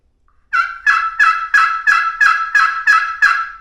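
Hand-operated box-style turkey call worked in spring turkey hunting, giving about nine loud, raspy yelps in an even rhythm, close and clear against silence.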